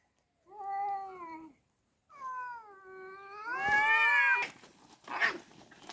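A cat meows repeatedly, close and loud, in several drawn-out rising cries that grow into a harsh caterwaul, with short pauses between calls and a brief scuffling burst near the end.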